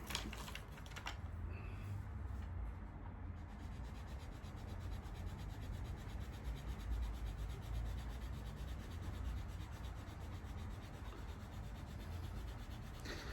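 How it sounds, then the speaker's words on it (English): Pencil guidelines being rubbed out with an eraser, a steady close scrubbing and rubbing that runs unbroken throughout, with no voices. "Just rub out the guidelines."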